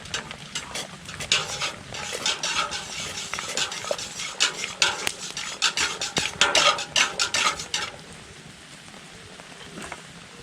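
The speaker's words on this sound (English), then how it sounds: "Then we'll give it a stir." Fries are stirred in a pot over a campfire: a quick run of close metallic scrapes and clinks, busy and irregular for several seconds, then stopping and leaving quiet outdoor background.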